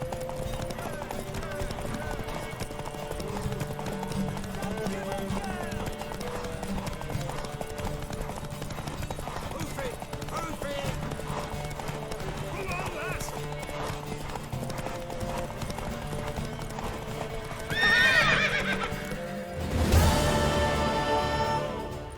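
Witcher 3 soundtrack with steady hoofbeats clip-clopping under music and voices, then a sharp horse whinny near the end followed by a loud burst.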